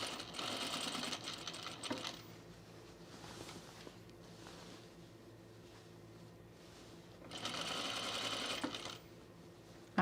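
A sewing machine stitches a seam on a blazer in two bursts, a steady whirring run at the start, a pause with faint handling noises, then another run of stitching near the end.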